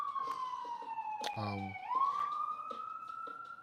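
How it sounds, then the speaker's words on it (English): An ambulance siren wails past outdoors, its steady tone sliding down and then rising again as it moves by at moderate distance, with a brief voice over it. "ambulance going through"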